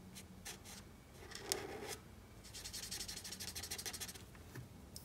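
Marker coloring on paper for an emoji drawing: soft, close scratchy strokes, first scattered, then a quick rhythmic run of back-and-forth rubbing, faint and with no talking.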